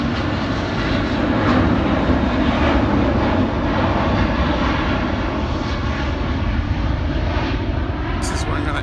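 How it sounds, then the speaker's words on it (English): An airplane passing overhead in Slough, England produces a loud, continuous engine roar that fills the whole stretch, with a voice speaking over it. "How do you live in an area where planes just fly over you?"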